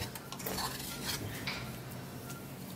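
A spoon stirs crushed garlic into lime juice in a small dish, making a soft, continuous scraping and clinking swirl up close with faint background hiss and no speech.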